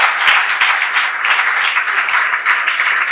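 Guests at an official wedding ceremony applaud as the bride rises, with a continuous, fairly loud wash of many hands clapping that pulses slightly throughout.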